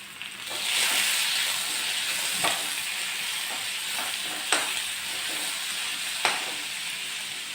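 Tomato added to a hot frying pan for a Kannada basale soppu saaru, giving a steady close sizzle and hiss, with occasional sharp clinks of stirring.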